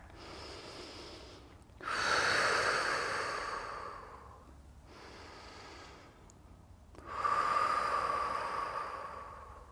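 Deep, slow breaths during a prenatal yoga flow, two long, loud airy exhalations separated by a quieter inhale, close to the microphone with no talking.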